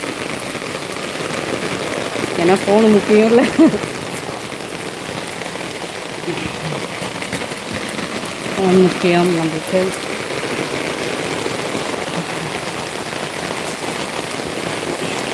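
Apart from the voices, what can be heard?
heavy rain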